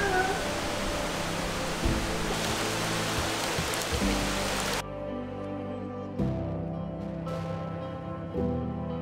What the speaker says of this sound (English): Probably a quick thunderstorm.